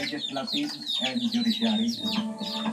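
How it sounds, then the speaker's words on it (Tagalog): Several chickens cluck and chatter continuously nearby, overlapping calls in an uneven rhythm, with a voice talking faintly among them. "Maraming manok."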